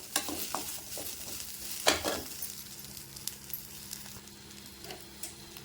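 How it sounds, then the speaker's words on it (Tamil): Tamarind and a large gooseberry being sautéed in a pan, with quiet, close sizzling under repeated scraping stir strokes and a few sharp clinks, loudest early on. No one speaks. "கொஞ்சம் புளி போட்டுக்கிறேன் ஒரு பெரிய நெல்லிக்காய் சூடு புளி அதையும் போட்டு வதக்கிக்கலாம்"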